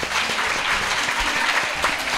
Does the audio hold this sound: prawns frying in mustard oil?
no